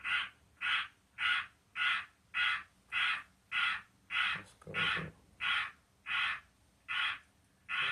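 A crow caws in a steady, evenly spaced series of about a dozen loud, harsh calls, with a brief spoken phrase slipped in between two of them.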